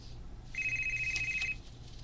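A cellphone rings with a single sustained electronic tone lasting about a second, clear and fairly close over a low hum, with no speech.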